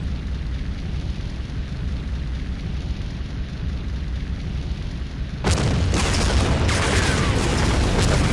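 In the naval submarine game Silent Hunter 3, a shell detonates in a ship's boiler room: a steady low rumble of distant blasts suddenly gives way to a loud, sharp explosion followed by a churning roar of secondary bursts.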